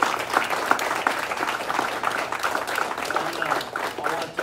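An audience at a Brazilian jiu-jitsu promotion ceremony gives the front-line leaders a steady round of applause, with continuous crowd clapping throughout.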